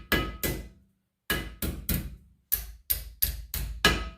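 Sharp metallic hammer taps seating a rear brake part on a 2015 Chrysler Pacifica, in short bursts, two, then three, then five in quick succession, close and loud with brief pauses between.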